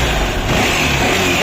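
A Kawasaki Caliber motorcycle with a piston ring problem revving loudly and steadily up close, a dense continuous engine roar that fills the moment without speech.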